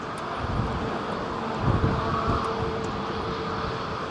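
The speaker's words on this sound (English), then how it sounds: "Oh, nice Skytrain 767 coming." A Skytrain Boeing 767 passes at London Heathrow on a calm day, its engines a low, broad rumble that swells slightly midway, heard from a distance alongside light wind noise on the microphone.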